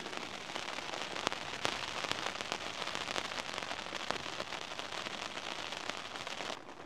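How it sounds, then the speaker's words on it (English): Steady rain drumming on a tent during a wild camp, a dense continuous patter with occasional sharper drop hits, close and even throughout. "So it's just started raining."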